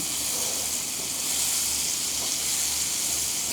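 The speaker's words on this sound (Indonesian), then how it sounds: "Oke, minyaknya sudah panas. Kita tumis sampai harum." Spice paste sautéed in hot oil for an Indonesian fried intestine dish, giving a steady, close hiss and sizzle with no voices.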